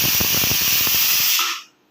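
A pressure cooker with dal inside hisses with a loud, close, steady rush of steam for about a second and a half, then cuts off abruptly.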